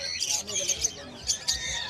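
Lovebirds at the Bocaue pet market in the Philippines let out sharp, shrill squawks in quick bursts, several calls overlapping nearby, with faint voices in the background.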